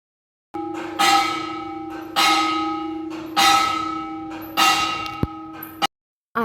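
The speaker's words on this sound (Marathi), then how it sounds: "आता जी तुम्ही मंदिरची घंटा ऐकली ती आहे सकाळी 3:30 वाजताची." A temple bell struck for the early morning aarti, ringing loud and close in four spaced clangs, each ringing on and fading before the next strike, followed by a couple of small knocks.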